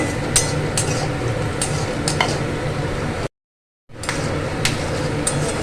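A steady hot-oil sizzle of cumin seeds frying in a pan, with occasional scrapes and clicks of stirring and a brief silent cut partway through.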